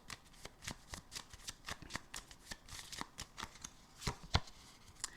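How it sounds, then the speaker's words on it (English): An oracle card deck being shuffled by hand, a rapid series of crisp riffling slaps and flicks close to the mic, louder snaps near the end, no talking. "Let's pull a Hype Man card,"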